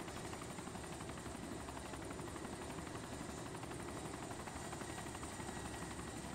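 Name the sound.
helicopter (chopper) in a video game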